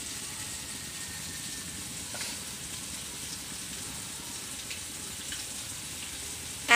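Fish frying in a pan gives a steady, soft sizzle and crackle with occasional faint pops, continuous and fairly quiet throughout.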